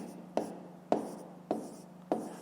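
A pen writes out a math solution by hand on paper, making four short, evenly spaced scratching strokes with a soft scraping tail after each, close and fairly quiet, with no talk.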